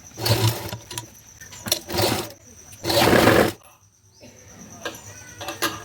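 A sewing machine stitches a folded hook strip in several short, loud bursts of whirring, with quiet pauses between each run as the fabric is repositioned.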